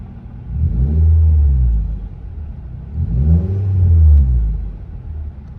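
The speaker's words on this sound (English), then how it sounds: "She's idling a lot better." A high-mileage Nissan Altima's engine rumbles low and close at idle, swelling twice in slow waves as it revs slightly and settles back, with no voices.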